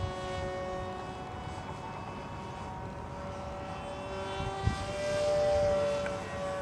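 YF-23 Black Widow RC model jet with a high-speed propeller in flight, a steady tonal buzzing whine heard at a distance, swelling briefly louder as it passes near the end.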